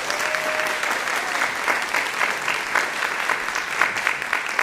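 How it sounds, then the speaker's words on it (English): A film festival audience gives a warm, steady round of applause after a screening and discussion, dense clapping sustained evenly throughout with a faint tone briefly audible early on and no talking. "So let's give them another round of applause."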